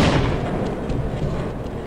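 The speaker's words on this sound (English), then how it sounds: "Okay, heard an explosion." Explosion in the video game Half-Life heard as a loud, broad boom that decays into a rumbling wash.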